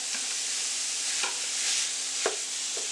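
One pound of ground beef cooking in a hot pot on medium-high heat with no oil, giving off a steady soft sizzle with a few scrapes as it is stirred and broken up.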